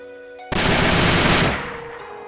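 A burst of rapid game gunfire from the Silver Blossom Rainstorm skill, a loud dense volley lasting about a second before trailing off.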